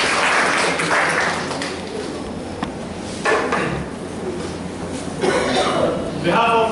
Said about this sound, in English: Let's give a good round of applause to everybody.